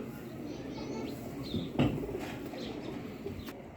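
Soft cooing of Ferozpuri breeder pigeons sits low in the mix over a steady background hum, with a few faint chirps and a brief flutter partway through.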